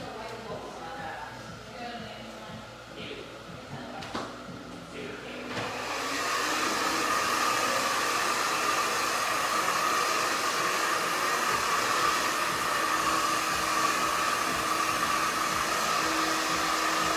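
A handheld blow dryer switches on partway through a short pixie haircut and runs loud and steady, a constant whooshing roar after a quieter stretch of salon handling noise.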